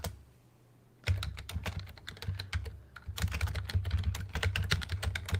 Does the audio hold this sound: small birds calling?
no